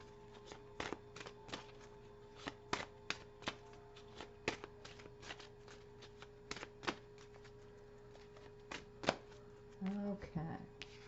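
Tarot cards are shuffled by hand, giving a soft run of quick papery flicks and taps that stays close and quiet, with a low steady hum underneath and brief faint speech near the end.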